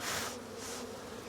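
Honey bees buzzing steadily and close inside an open hive being inspected after a Demaree split, a dense continuous drone with slight swells in loudness and no talk.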